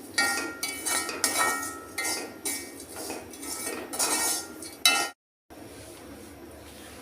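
A spoon scrapes and clinks in a pan as dried prawns with chili powder are stirred and roasted, repeated close metallic strokes in bursts, then a brief silence and quieter stirring.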